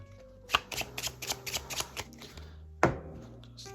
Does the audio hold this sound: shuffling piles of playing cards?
yes